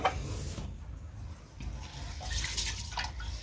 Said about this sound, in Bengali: তো চালগুলো আগে ধুয়ে নিই